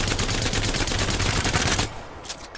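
Sustained automatic fire from a Havoc energy rifle in Apex Legends, a rapid unbroken burst of loud, close shots that cuts off abruptly, leaving a few faint clicks and game sounds afterward.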